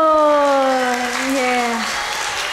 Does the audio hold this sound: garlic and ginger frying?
no